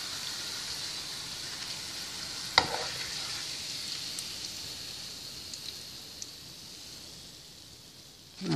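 Tortillas fry in hot oil with a continuous, soft, crackling sizzle like light rain, steady throughout with an occasional sharp tick or pop.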